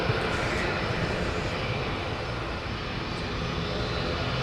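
A large airliner landing at LAX on runway 25 left, a steady, loud broadband roar of engines and rushing air that holds throughout without pause.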